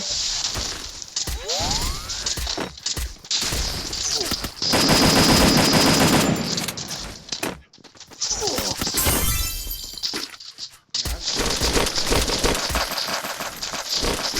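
Rapid bursts of video game gunfire crackle loudly through most of the stretch, with a dense sustained volley in the middle and breaks between flurries, over constant game sound.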